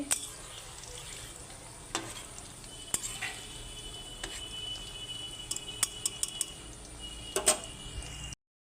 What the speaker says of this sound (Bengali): একদম লো ফ্লেমে ভেজে নিচ্ছি